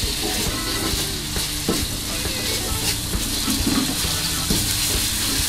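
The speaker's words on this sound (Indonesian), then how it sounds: "kemudian tumis bumbu" Ground spice paste for potato sambal goreng sizzles and hisses steadily in a hot oiled pan while being stirred, a dense continuous frying crackle with occasional scraping, close and loud.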